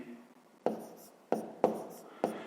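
Pen or pencil writing by hand on paper while working a fifth-grade maths exercise, heard as four sharp close strokes or taps at irregular intervals over a quiet background.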